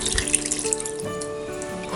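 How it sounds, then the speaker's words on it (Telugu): Water is poured into a pot of Nellore-style fish curry holding mango pieces and tamarind pulp, a steady close splashing stream that runs for the whole moment without talk. "కొంచెం వాటర్ పోసుకొని"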